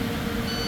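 A bus's low air pressure warning buzzer drones as a steady, close tone during an air brake test, brief and without speech.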